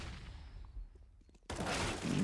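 Gunfire from a Counter-Strike match on the Inferno map: a quiet lull with faint clicks, then a loud burst of shots erupts and keeps going to the end.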